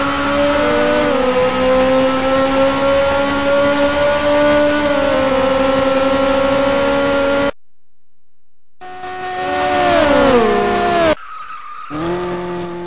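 Race car engines roar and whine past on a straight at the Österreichring in a racing video game, steady loud engine tones rising and falling, a short silent break, then more cars sweeping by with shifting pitch and a brief tire skid.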